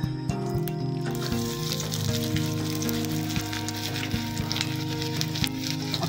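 Onions sizzling in hot oil in a pan for desi-style egg bhurji, a steady loud crackling fry with bright spatters, alone without talk.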